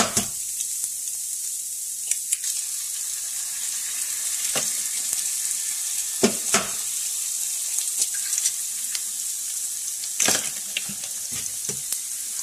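Eggs frying in a hot pan, a bright continuous sizzle close by with occasional scrapes and taps of a utensil pushing them around, no voices.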